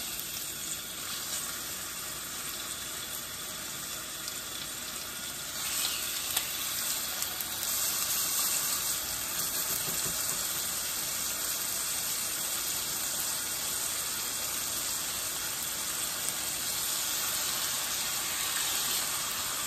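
Seasoned chicken pieces frying seasoned side down in olive oil in a pan over medium heat, giving a steady, even sizzle that holds close and constant from start to finish with no talking.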